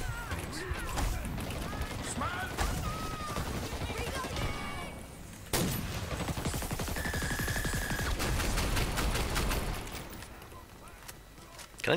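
Bursts of gunfire from the online shooter Dirty Bomb crackle in repeated rapid volleys amid game noise, moderately loud, with a person talking over much of it.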